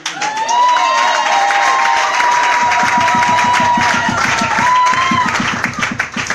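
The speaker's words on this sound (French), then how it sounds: "Applaudissez pour la chorale." A church congregation applauds the choir with steady rhythmic clapping and cheering, loud and sustained throughout, while a held musical tone rings above the crowd.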